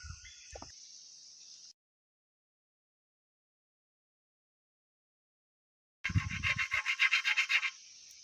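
Coconut shell half rubbed smooth on a rough surface, a short scraping burst at the start, then silence, then a run of quick rhythmic rasping strokes close by.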